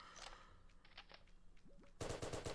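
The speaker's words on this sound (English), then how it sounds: "So I just used my buggy SMG to kill him there." SMG gunfire in the Roblox game Island Royale, starting as a loud rapid burst of shots after a stretch of quieter game sounds and continuing to the end.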